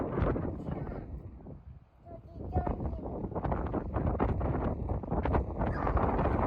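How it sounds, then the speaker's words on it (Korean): Strong wind buffets the microphone in loud, uneven gusts with a brief lull partway through, and faint voices can be made out beneath the rumble. "바람 엄청 분다"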